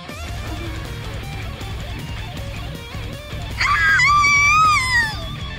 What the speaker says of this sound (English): We didn't do anything yet, there was another scream.